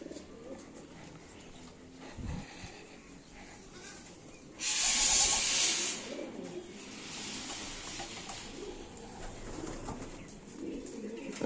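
Pigeons coo steadily inside a loft near its trapping and landing board, a low murmuring chorus throughout, broken by a loud hissing burst of spray-like noise lasting about a second.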